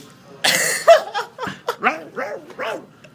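A person voices a string of dog-like barks and yips, loud and close, several short bursts in an uneven rhythm, imitating a dog barking at a king.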